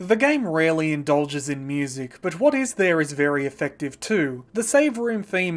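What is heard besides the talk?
No everyday noises stand out.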